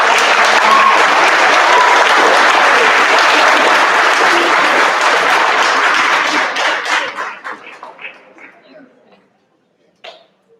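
Loud, dense applause from students and guests at a school Veterans Day assembly, sustained for about six seconds before thinning into scattered claps and fading to near silence, with a last few claps at the end.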